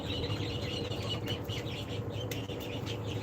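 Young tiger breed laying hens mill about on a farm, their soft clucks and chirps blending with scattered wing flaps and rustling in a steady close-up din.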